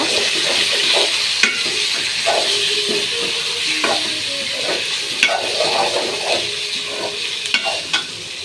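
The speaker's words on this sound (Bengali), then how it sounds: "দিয়ে আমি ভালো করে ভেজে নেব" Meat frying in a pan for a home-style curry, with a steady sizzle and repeated scraping strokes of a spoon stirring throughout, close and fairly loud, no talking.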